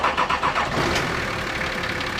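Nissan Patrol Y61 TD42 diesel engine, lacking in power, idling steadily just after starting, with a broad, even, close rumble and some faint ticking clatter at the start.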